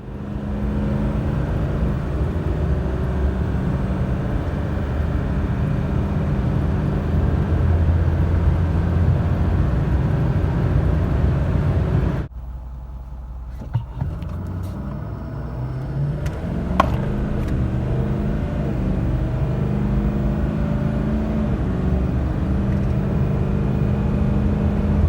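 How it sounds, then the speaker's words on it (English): A 6.4 Powerstroke diesel truck with a deleted DPF roars through a loud, steady wide-open-throttle pull, drops abruptly to a quieter idle-like lull midway, then surges back up to full sustained engine and exhaust drone. "I recorded a couple of wide open throttle pulls before and after"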